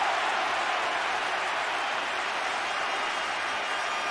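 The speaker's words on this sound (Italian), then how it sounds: "Ovazione del pubblico per il leone del centrocampo bianconero" A large stadium crowd applauds and cheers during a Serie A football match between Juventus and Milan, a steady, dense roar of clapping and voices holding throughout.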